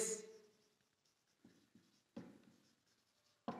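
A pen writes on paper in short, soft scratching strokes, a few separate bursts in a quiet room.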